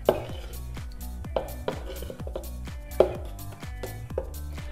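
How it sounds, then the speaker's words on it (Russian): Sugar-free apple pie batter mixed by hand in a bowl, giving a steady series of rhythmic knocks and scrapes about every half second, close and alone with no voices. "И теперь все это аккуратненько перемешиваем. Лучше делать это вручную."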